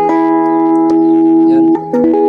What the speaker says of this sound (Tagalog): So clean tone na without reverb.